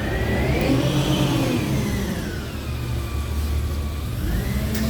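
A garbage truck engine rumbles loudly and steadily as it moves along a street in Montreal's Little Italy. The low, continuous drone shifts slightly in pitch as the truck passes close by.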